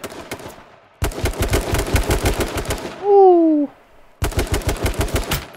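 Rapid automatic gunfire rattles in close, loud bursts in a video game, broken by short pauses and a brief rising electronic whine before the shooting resumes.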